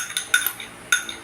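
Metal utensils mix grated carrots into a cucumber salad in a bowl, making quick, close, irregular clinks and taps against the dish, with no talking.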